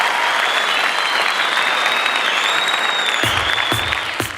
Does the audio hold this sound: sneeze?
no